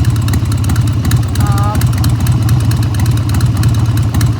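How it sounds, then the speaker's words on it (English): A 1994 Harley-Davidson Sportster Hugger motorcycle engine idles steadily close by, a continuous low rumble with no breaks and no talking over it. "Bike seems to run very good."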